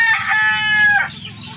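A rooster crows once, a loud drawn-out call rising and then breaking off near the end, with a soft low rumble underneath.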